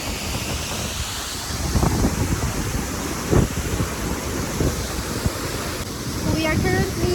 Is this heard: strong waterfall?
yes